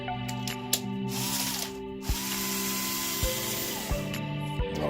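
Small screws being backed out to remove hair clipper blades, producing a close mechanical ratcheting whir with a few sharp clicks and knocks, heard alone without talk.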